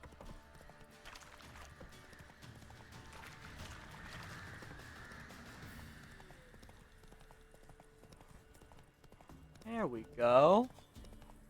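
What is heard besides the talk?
horse hooves while riding Roach in video game Witcher 3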